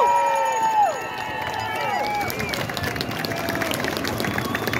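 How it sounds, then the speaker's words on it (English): A crowd at a Freedom Convoy rally in Halifax claps and cheers in a sustained burst. A voice trails off at the start, and the applause continues as a dense, steady roar of hands and shouts. "I think it's time we give them one big round of applause."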